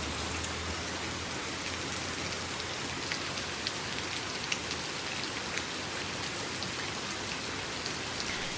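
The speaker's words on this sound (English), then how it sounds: "it's still raining" Steady, dense rain pours during Hurricane Helene, a constant hiss of drops on surfaces with no letup and no voices.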